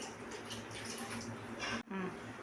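Water from a tumbler pours into masala cooking on a stove, a continuous splashing gurgle that breaks off near the end before a brief sizzle returns.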